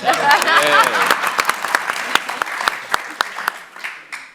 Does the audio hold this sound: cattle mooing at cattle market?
no